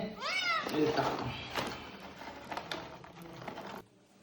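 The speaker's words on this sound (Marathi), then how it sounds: "गाईज आमचा ह्यो जो मॉन्टी का नाही, ह्यो कॅट फूड सोडलं ना तर काहीच खात नाही माहितीये का" A pet cat in a village home meows in several rising, drawn-out calls near the start, then goes quiet as soft clicks and rustles carry on and a person talks nearby.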